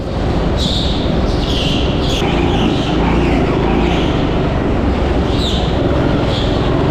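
Go-kart engines drone loud and continuous at the TeamSport Sheffield track, with the close kart's motor steady and other karts buzzing by in the mix, no voices heard.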